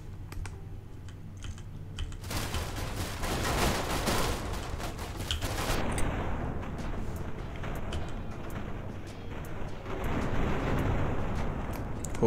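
A big gun blasting in People Playground, with a dense roar of rapid heavy shots from about two to six seconds that then gives way to a rumbling, crackling aftermath, loud and continuous with no talking.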